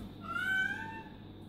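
A single drawn-out cat meow rises and wavers, fairly faint and a little distant, over a quiet background hum.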